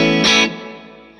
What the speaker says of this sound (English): I like this reverb